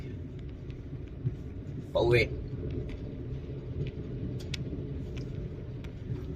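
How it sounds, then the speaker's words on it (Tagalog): Road traffic rumbling at night on the way home, a low steady drone of cars with a brief louder pass, under a quiet voice speaking. "bubuno na naman ako sa traffic"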